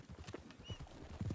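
Horse hooves gallop in Red Dead Online with quick, rhythmic clip-clop beats close up, alone and fairly loud, ending in a sharp burst.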